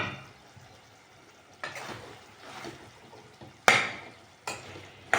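Cauliflower, potato and peas cooking slowly in oil on low heat, a soft steady sizzle broken by a few sharp scraping stirs of a spoon against the pan.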